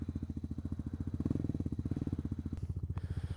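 Honda Monkey motorcycle with an aftermarket exhaust, its single-cylinder engine idling with a steady, even thumping pulse, close by and moderately loud, with no talking.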